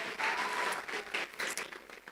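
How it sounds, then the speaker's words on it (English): An audience claps together in a short, lively burst of applause, fairly close and moderately loud, with no talk over it. "Please give him a round of applause again."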